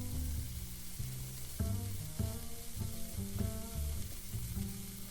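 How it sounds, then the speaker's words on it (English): Vegetables sizzle in a hot pan over medium-high heat, a steady frying hiss under background music throughout. "Now I'm gonna add the veggies and cook them between 5 and 7 minutes"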